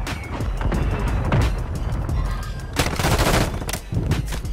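Rapid gunfire from a nearby firefight in Warzone, dense and loud, with bursts of shots rattling continuously and sharper volleys near the end, no talking.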